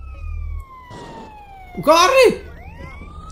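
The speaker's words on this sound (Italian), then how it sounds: "le sirene ci fanno correre" Police sirens wail in GTA San Andreas, a rising and falling electronic tone that sweeps through the scene, loud and close, while someone shouts briefly in Italian over it.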